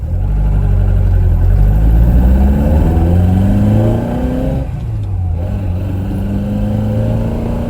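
A 1971 Lotus Elan Plus 2 S130 engine revs up through the gears of its 4-speed gearbox, rising in pitch, shifts, then pulls again as it drives along the road, loud and close.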